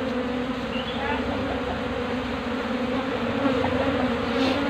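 A colony of Apis cerana honey bees in a hive box hums with a dense, continuous buzz at moderate volume, steady throughout with occasional individual bees passing closer.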